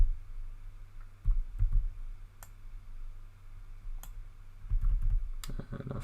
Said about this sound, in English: This is me using the arrow keys now just to get it really down to its final size.